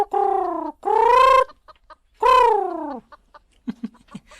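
A chicken clucks up close, with two long, loud drawn-out squawks, then a trail of short, soft clucks and pecking noises.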